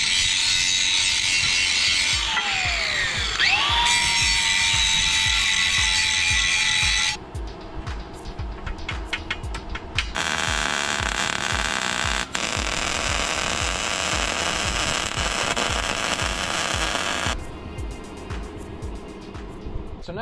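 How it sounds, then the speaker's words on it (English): Metal is welded and cut for an ATV trailer frame, giving a loud, continuous harsh roar of power tool noise. A whining pitch drops at the start, and the noise shifts abruptly between coarser and brighter grinding stretches throughout. "we weld this in place, and then we'll cut it at about 4 feet"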